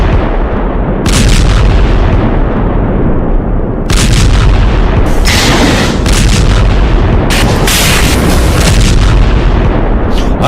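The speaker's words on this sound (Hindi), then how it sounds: "गाजा में जिस तरह की बमबारी हो रही है" Heavy, dense rumbling blasts and booms from bombing in Gaza roll on loudly and continuously, with sharp bursts standing out repeatedly over a saturated roar, no voices.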